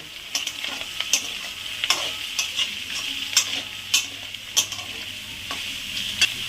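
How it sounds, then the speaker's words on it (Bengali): Soybeans and peas sautéing in a pan give a constant bright sizzle, punctuated by evenly spaced spatula scrapes and taps roughly every half second, close and free of speech. "সোয়াবিনগুলো দিয়ে দিলাম। মটরশুঁটিটাও দিয়ে দিলাম। এগুলো একটু কষিয়ে নেব।"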